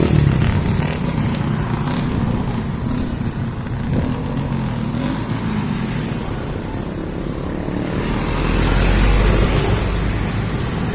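A motorcycle with a loud aftermarket muffler runs on a street in San Luis, Pampanga, giving a steady, rough engine drone that swells louder near the end as it passes close by.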